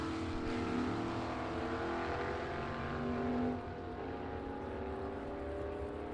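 Vintage drag race cars, including a Willys Coupe, run down the track at a Glory Days vintage drag race, with a loud, steady engine roar that shifts in tone partway through.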